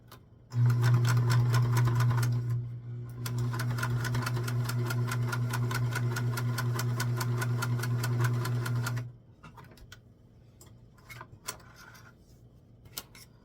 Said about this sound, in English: we're going to sew up the back seam and leave a little space for the doll to get in